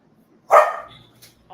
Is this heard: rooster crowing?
no